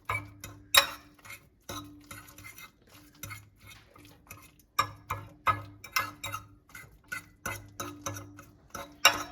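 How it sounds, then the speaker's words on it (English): A utensil scrambles partly cooked eggs in a microwave dish, with repeated light clinks and scrapes in short rhythmic bursts over a faint steady hum, close by and without speech. "So again, I'm going to scramble it"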